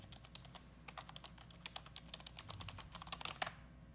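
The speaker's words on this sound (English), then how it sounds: "There's heavy typing over there." Heavy typing on a computer keyboard in a room: rapid, uneven clacking keystrokes that build to a denser flurry near the end, faint and steady against a low background hum.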